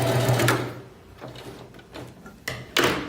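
A sewing machine stitches a sweatshirt seam and finishes with a backstitch. It comes in short, close whirring bursts at the start and near the end, with quieter handling noise between.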